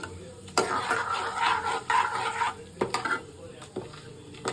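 Mustard seeds, cumin, chana dal and urad dal sizzle in hot oil, a busy crackling fry broken by several sharp clinks and scrapes of a spoon against the pan; no talk.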